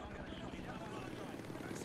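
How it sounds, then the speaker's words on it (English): A helicopter in the shooter game Modern Warfare 2 Remastered churns with a steady, dense rotor roar that fills the whole moment without pause. "that's when the hotel helicopter pops up"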